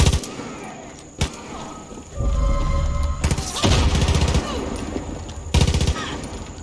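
Gunfire in the Far Cry 5 video game: a single sharp shot, then long rapid automatic bursts, loud and close, with one more burst near the end.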